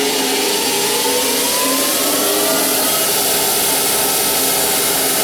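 A lathe motor driven by a VFD runs at high speed around 2400 RPM, a loud steady whine and hum with a faint rising tone, continuous and close, with no voices.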